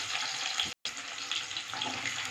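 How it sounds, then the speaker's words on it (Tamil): Shallots and garlic fry in hot oil in a pan for a tamarind curry made with neem flowers, giving a steady, close, bright sizzle with one very brief break. "வெங்காயம் பூண்டு கொஞ்சம் நேரம் வணங்கட்டும்"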